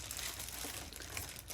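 A 15-piece pack of fruit-themed craft scrapbook paper being handled, giving soft continuous crinkling and rustling with small crisp peaks, close and quiet, with no talking.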